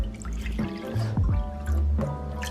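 Filtered water from a Brita pitcher pours into the pan of a Breville Custom Loaf bread maker, a close gurgling, splashing stream with uneven bubbly pulses.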